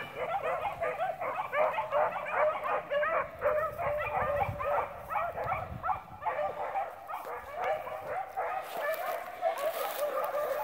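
A pack of beagle hounds bays steadily on a trail, rapid overlapping yips and howls rolling on without pause, heard from a moderate distance with faint wind and rustling underneath.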